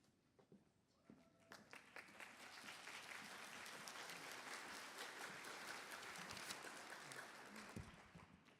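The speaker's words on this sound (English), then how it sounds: "everybody was so polite right there, just barely clapped" Polite, scattered clapping at a National Honor Society induction ceremony starts faint, swells into a moderate, even round of applause from an audience of parents, and stays fairly soft throughout.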